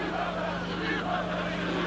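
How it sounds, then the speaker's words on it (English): Wrestling crowd at a UK independent wrestling event cheering for the Death Squad, a dense, steady roar of voices filling the whole moment without a break. "listen to this crowd get behind the Death Squad"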